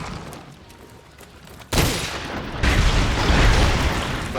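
Ammunition fired in Monster Hunter World: a quiet rumble breaks into a sudden loud blast, then a heavier, sustained roar of shots and impacts fills the rest.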